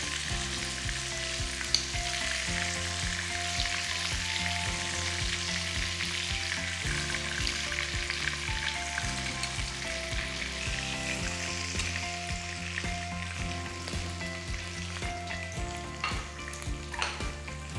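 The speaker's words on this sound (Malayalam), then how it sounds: "ഫ്രൈ ചെയ്ത ഓരോ മീറ്റ് ബോളും പ്ലേറ്റിലേക്ക് മാറ്റാം" Meatballs frying in oil in a pan give off a constant, dense sizzle at a steady level, with an underlying hum that shifts pitch now and then, and no voices.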